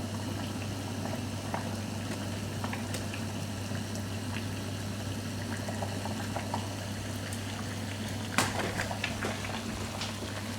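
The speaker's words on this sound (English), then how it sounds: "It's boiling." Water boils steadily in a pot on a stove, a continuous bubbling roil with scattered pops and one sharper knock near the end, beneath a constant low hum and no voices.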